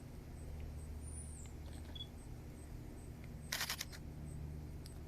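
A Pentax K-3 Mark III mirrorless-style live view mechanical shutter fires in a short burst of crisp clicks, close and moderately loud against a quiet background hum, with no talk.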